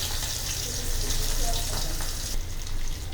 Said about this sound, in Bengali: এখন এটাকে তেলে ভেজে নেওয়া হচ্ছে।